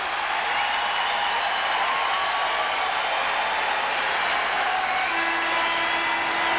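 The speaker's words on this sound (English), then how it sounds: "Crowd up, roaring." A basketball arena crowd roars steadily at a college game between Duke and Arizona, a loud, continuous wash of cheering and applause from start to finish with no break.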